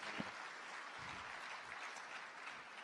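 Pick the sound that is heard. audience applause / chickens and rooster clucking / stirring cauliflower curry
audience applause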